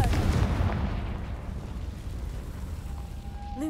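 A Confringo blasting curse explodes inside a cave in the Hogwarts Legacy video game, starting as a loud, heavy boom that rolls into a long fading rumble, with a faint rising whoosh near the end.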